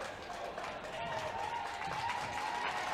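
Crowd at a high school basketball game during free throws in a gym, a diffuse murmur of voices and scattered clapping with a rising shout, heard under an announcer's commentary, fairly distant and low in level.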